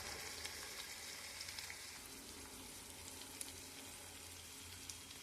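Egg frying in a pan for a spicy Telugu egg dish, a steady soft sizzle with crackling that runs without break, fairly faint and with no one talking.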